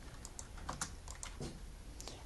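Computer keyboard keys pressed for copy and paste shortcuts: roughly a dozen light, quick clicks in an uneven rhythm, close but quiet, with no speech.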